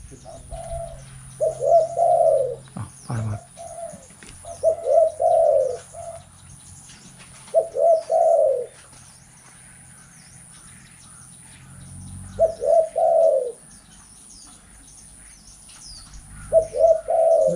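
A spotted dove coos in short repeated phrases that come back in bursts with quiet gaps, fairly close and clear over faint background chirps and insects, with no talking.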